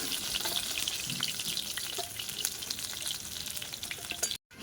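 Fish fries in hot oil with a dense, even sizzle close by. The sizzle cuts off abruptly just before the end, and no one speaks.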